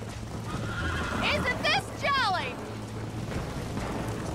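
A horse in the video game Red Dead Redemption neighs, giving a loud rising-and-falling whinny in two bursts over steady hoofbeats and a constant rumbling background.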